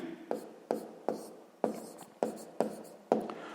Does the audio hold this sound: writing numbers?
yes